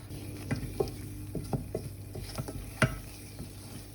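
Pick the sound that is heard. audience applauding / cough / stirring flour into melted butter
stirring flour into melted butter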